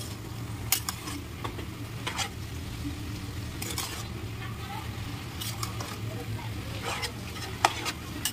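A utensil stirs cabbage and potato curry in a pan, scraping and tapping against the metal over a constant close sizzle. Stirring strokes come in irregular bursts while the frying hiss continues underneath.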